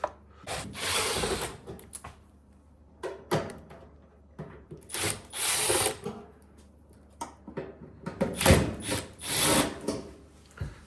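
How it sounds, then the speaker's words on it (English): A power drill runs in several short, loud bursts close by, whirring and grinding into material with brief pauses between each run, while repairing an Electrolux speed oven. "If you hold your drill straight,"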